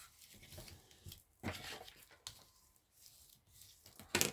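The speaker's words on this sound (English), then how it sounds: "now I'm going to fold and burnish" Card stock being creased and burnished flat with scissors, quiet papery scrapes and rustles in short separate strokes with brief pauses, ending in a sharper crinkle.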